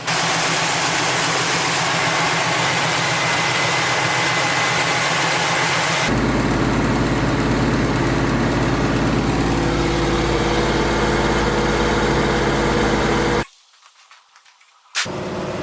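A Chevy 350 V8 engine runs steadily with a loud, continuous drone that shifts to a deeper, heavier tone partway through, then briefly cuts out near the end.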